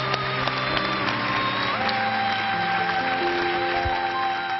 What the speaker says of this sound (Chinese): 来，给点掌声鼓励一下吧啊。